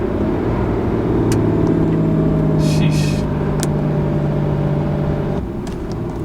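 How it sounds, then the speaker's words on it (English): A RAM 3500 HO Cummins diesel towing a big fifth wheel trailer drones with a loud, steady low engine rumble as the exhaust brake holds, with a few clicks and a brief voice over it. "that exhaust brake"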